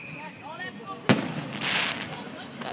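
Fireworks exploding outdoors: a single sharp, loud bang from a distant burst, followed by a few seconds of crackling and hissing as it fades. Faint background noise runs throughout.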